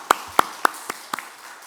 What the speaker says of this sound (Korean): 이렇게 축복에 박수 한번 같이 보내도록 하겠습니다